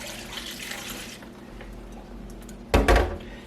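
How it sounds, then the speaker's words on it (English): Water runs into a pot for turkey brine, a soft steady pour, then a brief louder splash near the end, close by and quiet with no talk. "Now I'm going to add my 5 cups of water"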